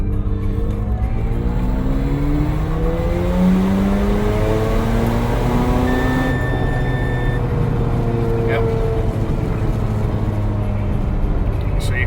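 A car with a new intercooler pulls hard through a single gear, its engine note climbing steadily in pitch and staying loud and close the whole time, with a faint voice briefly audible underneath.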